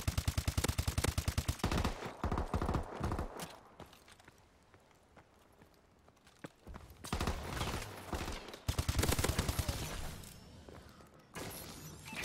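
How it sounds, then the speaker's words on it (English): Gunfire in Call of Duty: Advanced Warfare multiplayer: rapid bursts of automatic weapon fire at the start and end with scattered single shots and quieter stretches between, loud and close, no talk. "this dude's following me around shooting like a moron"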